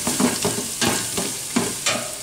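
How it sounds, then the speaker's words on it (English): Garlic sizzles steadily in a hot pan while a utensil stirs it in repeated strokes, each pass bringing a brief scraping swell over the constant crackle. "Put the garlic in, cook for another minute or two."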